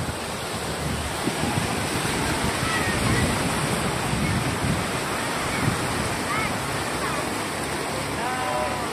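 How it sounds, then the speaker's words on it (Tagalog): Large ocean waves break on a shallow beach at sunset, making a continuous loud roar of surf mixed with wind buffeting the microphone, and faint voices now and then. "Laki ng alon dito."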